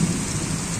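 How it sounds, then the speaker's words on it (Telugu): Thunder rolls with rain, a low, distant rumble under a steady hiss of falling rain, brief and fairly faint with no voices. "అగో ఉరుములు మెరుపులు చూడండి ఎట్లా కొడుతున్నాయో"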